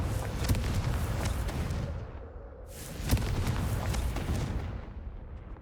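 The Confringo blasting spell fires in Hogwarts Legacy, giving two booming, fiery blasts a few seconds apart, each trailing off into a rumbling decay.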